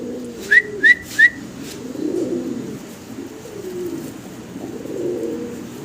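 English Carrier Homer pigeons coo in low, rolling, repeated murmurs close by, with three quick high chirps from another bird at the start.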